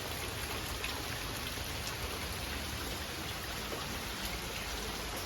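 Heavy rain pours steadily on the Appalachian Trail during a flood warning, a dense, even hiss of drops close by with no talking.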